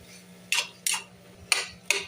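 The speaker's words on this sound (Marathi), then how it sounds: "आता ही भाजी छान अशी परतून घेत आहेत ते" Potato bhaji filling for batata vada stirred and sautéed in a pan, with four sharp metallic scrapes and clinks of a spatula against the pan at irregular intervals over a low background hum.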